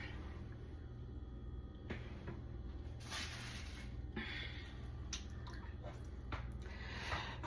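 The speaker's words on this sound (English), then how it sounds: "I'm gonna put the oxtails in the crock pot" Oxtails go into a crock pot with faint wet squishes, soft drips and a few light knocks from handling the pot, heard close by against a low steady hum.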